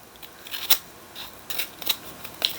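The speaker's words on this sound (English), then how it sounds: "It's easier if you have the scissors that open right up." Scissors snipping along the edges of a playing card, crisp close snips in short irregular bursts spaced about half a second apart, with no talking.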